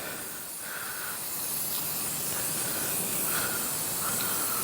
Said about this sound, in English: you should just keep it spraying the whole time